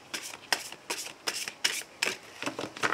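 A deck of cards being shuffled for a tarot-style card reading, a run of crisp riffling bursts about every half second, close and fairly loud, with no voices.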